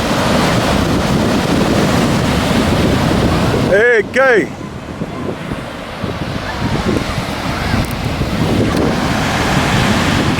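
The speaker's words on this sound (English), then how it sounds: "As the waves come in, they run out." Ocean surf at Dockweiler Beach rolls in as a steady, loud wash with wind buffeting the microphone, continuous throughout, with a brief voice calling out partway through.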